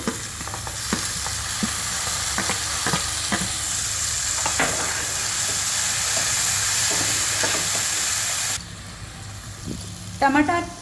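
Tomatoes hit frying onions and whole spices for chicken kheema, giving a loud, steady sizzle with repeated scraping stirs, then quieter frying and a few clinks with a voice at the end.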